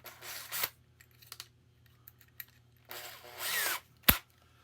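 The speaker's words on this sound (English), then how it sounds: "you need a bit about the same size as the needle" Short bursts of a power drill boring into a tennis ball close by, two main runs separated by quiet clicks and handling noises, ending with a sharp knock.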